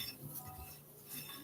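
A utensil stirring a homemade granola mixture in a bowl, giving soft scraping and light clinks of metal against the dish, faint and irregular.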